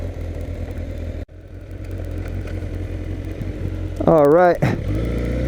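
The engine of a 2006 Suzuki GSX-R 1000 K6 motorcycle runs at a steady idle close by, then gives a short rising rev near the end, with someone briefly speaking over it.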